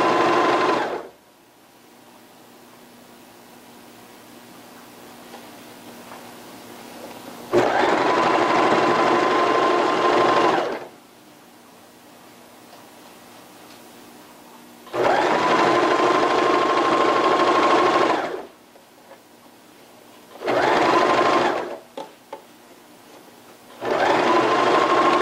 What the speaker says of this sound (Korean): 이렇게 허리단 박음질을 다 하였습니다